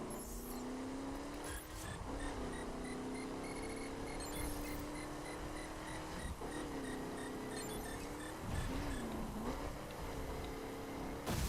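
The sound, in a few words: car driving in a video game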